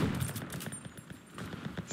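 Gunfire erupts in bursts while shooting enemies from behind in the WWII shooter Enlisted, set on the Guadalcanal coast. The shots are quick and close, in a loose rapid rhythm, with no talking over them.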